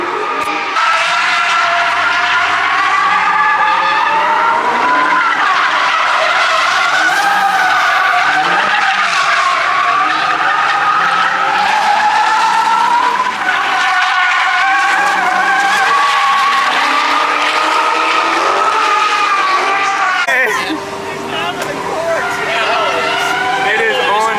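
A 2021 Dodge Hellcat Charger spins donuts, its tires skidding in a loud, continuous squeal that warbles and surges with the revving engine for over twenty seconds before dropping off briefly and resuming.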